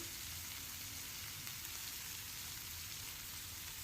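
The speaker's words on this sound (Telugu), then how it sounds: "ఇవి బాగా వేగాలి, టమోటాలు బాగా మగ్గాలి" Onions and tomatoes frying in a pan with turmeric and salt, a steady, even sizzle and crackle holding at a constant low level for the whole stretch, with no voices over it.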